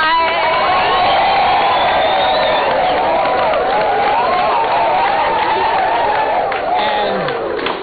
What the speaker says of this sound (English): Please make some noise for Chidinma one more time.